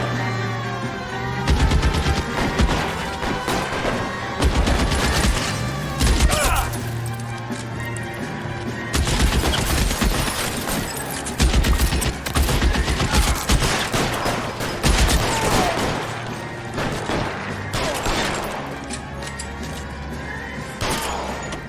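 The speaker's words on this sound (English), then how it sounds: "It's like a freaking gang war, using automatic weapons and everything." Automatic weapons fire in a street gang shootout, with repeated loud bursts of rapid gunfire coming close together, some sharp crashes between them and occasional voices underneath.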